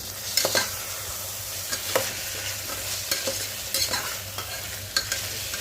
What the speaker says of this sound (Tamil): அதையும் ஒரு நிமிஷத்துக்கு நல்லா அப்படியே எண்ணெயோடவே வதங்கி வரட்டும்.